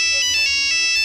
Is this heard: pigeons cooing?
no